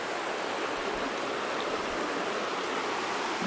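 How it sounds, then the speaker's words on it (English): Steady creek water flowing in the woods beside an old log, a continuous broadband rush with no talking, fairly soft and even throughout. "Goes right over the creek."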